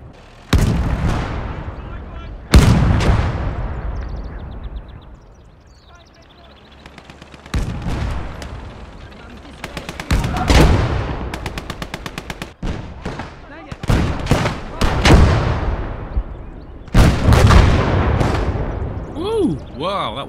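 Heavy explosions and shell blasts from a World War II tank battle in the video game Gates of Hell, including a tank turret blown off, come in repeated loud booms with sharp onsets and rumbling decays, mixed with bursts of gunfire across the clip.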